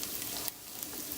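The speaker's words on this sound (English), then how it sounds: "we're going to go ahead and keep sauteing it" Rice sautéing in a pan gives a soft, steady sizzle and frying hiss with faint, occasional ticks, quiet and even throughout.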